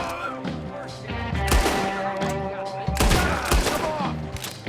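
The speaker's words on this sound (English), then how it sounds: "What are those guns they have?" A Red Dead Redemption 2 shootout: dense, loud gunfire with repeated sharp cracks and heavy booms over a steady musical backdrop, nearly continuous throughout.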